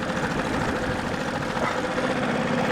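A sailboat's engine idles steadily at close range, a continuous low rumbling drone with slight knocking vibration throughout, no voices over it.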